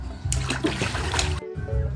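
Water splashes in a small, shallow home swimming pool, choppy bursts of sloshing and spattering with a brief gap near the end before the splashing resumes.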